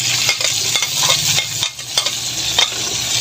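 Onion, tomato and green chili sautéed in a pan for spicy squid adobo, a loud close sizzle broken by rhythmic spatula scrapes and taps as the vegetables are stirred.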